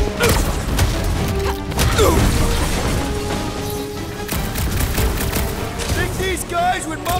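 Dense gunfire and clattering impacts in Guardians of the Galaxy combat, with rapid shots and mechanical crashes mixed under character voices and shouting, loud and continuous.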